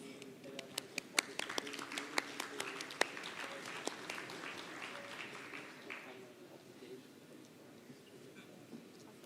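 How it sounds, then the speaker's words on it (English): An audience at the Green Hydrogen Summit in Oman applauds its panelists at a conference. The clapping is faint and distant, with sharp claps that taper off and give way to quiet room murmur. "Please give them a big round of applause."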